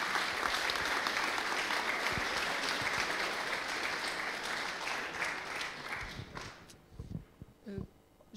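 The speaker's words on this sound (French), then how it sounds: "on peut encore l'applaudir" A room of attendees at the GSON launch applauds to thank Sophie, a steady wash of clapping that thins out after about six seconds into scattered claps and a few voices.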